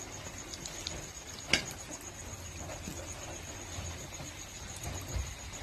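Samosas (singara) deep-frying in hot oil give off a quiet, steady broadband sizzle with faint crackling pops and one brief sharper spatter near the middle, with no voices.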